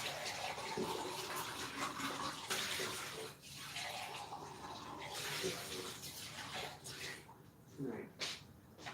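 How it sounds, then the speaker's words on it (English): Cold water gushes steadily from a tap into a cup or sink in a continuous, close splashing rush lasting several seconds, with brief changes in the flow. "Cold water."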